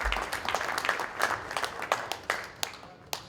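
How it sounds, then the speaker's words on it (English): Audience applause at a Ward 12 Edmonton city by-election candidates debate, a short burst of dense clapping with a few sharper claps breaking through near the end. "give yourself a big round of applause for being here today"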